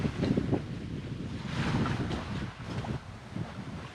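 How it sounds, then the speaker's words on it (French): A humid east wind blows in off the sea on a sailing boat, buffeting the microphone in uneven rushing gusts over a soft wash of water, with no voices. "Un vent d'est très humide."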